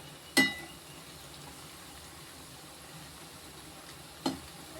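Pumpkin chips fry gently in a pan over low heat, a faint, steady sizzle broken by two sharp utensil taps, one near the start and one near the end.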